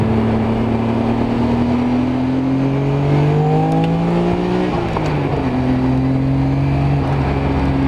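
A Nissan Skyline R33 GT-R engine drones loudly as it climbs through the revs toward its 8,000 RPM redline, pitch rising steadily, dropping at a gear change, then building again.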